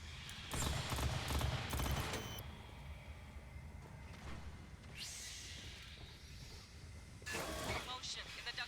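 Automatic gunfire bursts in the game Aliens: Fireteam Elite, loud rattling volleys at the start and again near the end, with a voice speaking in between.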